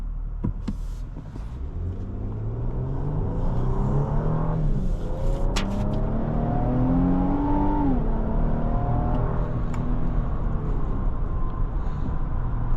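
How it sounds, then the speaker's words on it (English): A 2026 Infiniti QX80 Autograph engine in sport mode, a steady low rumble that climbs in pitch under acceleration, shifts down, then rises again, heard from inside the cabin without talking. "I like the sound of the engine."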